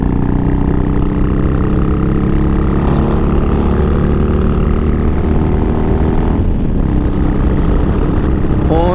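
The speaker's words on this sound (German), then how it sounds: "da kommen die nächsten Harley-Fahrer" Several Harley-Davidson motorcycles ride past on a road, a steady loud engine drone with harmonic rumble building and shifting in pitch as they go by, without talk over it.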